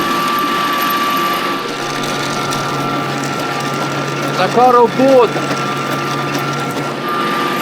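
A Mitsubishi MT-200 mini tractor with a freshly overhauled engine tills and levels a field, its motor running in a steady, close mechanical drone with a harsh whirring tone, while someone speaks briefly over it.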